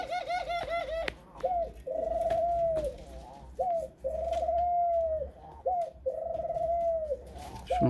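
Laughing doves in a breeding setup coo close by in repeated rolling, bubbling phrases with short pauses between, loud and clear.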